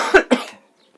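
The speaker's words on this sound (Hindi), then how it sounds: "बहुत खांसी हो रही है" Two quick, sharp coughs close up, one right after the other, then silence.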